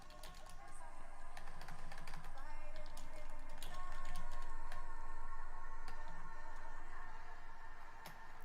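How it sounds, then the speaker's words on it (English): Typing on a computer keyboard: scattered bursts of light, close key clicks over a steady background hum, with a voice talking intermittently through it. "I'm typing in the poll."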